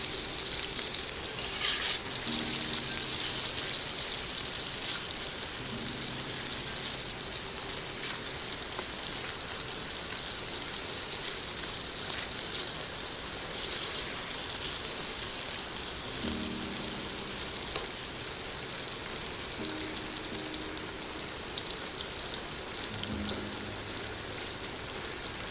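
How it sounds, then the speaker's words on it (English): Potato strips fry in oil in a pan over medium heat, a steady, dense sizzle that runs evenly throughout at moderate loudness, with no talk. "let's fry the potato first. Medium heat. Sear until both sides are perfectly brown."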